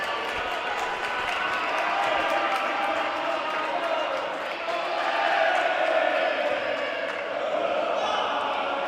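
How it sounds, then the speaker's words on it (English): Gym crowd at a Sauk Valley men's basketball game against Marshalltown, a dense, steady roar of voices cheering and jeering, with an announcer talking over it and faint ball bounces. "if you can listen to this crowd, they're giving the nah"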